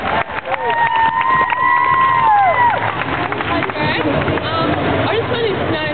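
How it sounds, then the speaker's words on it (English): A fan convention crowd claps and cheers loudly and steadily, with excited shouts and voices mixed into the continuous applause. "Everybody's clapping."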